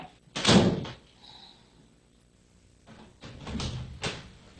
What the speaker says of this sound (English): Can you just shut the door for me?